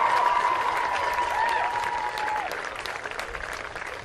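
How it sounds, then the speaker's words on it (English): Steady, crowd-filling applause for the Liberty Blue Jays, the 2021 state champions, at a championship ceremony. The clapping rolls on unbroken for the whole clip, with a faint whistling tone over it for the first half. "let's give a big round of applause for the Liberty Blue Jays"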